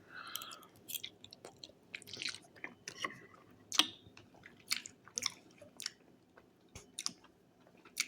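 Close, wet chewing of a bite of brisket, with irregular soft smacks and squishy mouth sounds repeating steadily with no talking.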